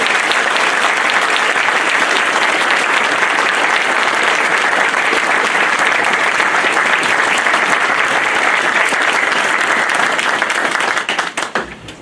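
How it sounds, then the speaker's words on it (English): Sustained, dense applause from an audience at a borough council reorganization meeting in Raritan, following a swearing-in oath, holding steady for about eleven seconds before thinning out at the end. "Thank you for the kind applause."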